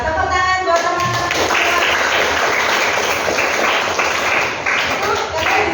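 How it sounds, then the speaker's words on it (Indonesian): Classmates clap their hands together in a vocational high school classroom, a dense, continuous patter that fills the room and holds steady, with a brief voice and tone at the very start. "Tepuk tangan buat teman-teman."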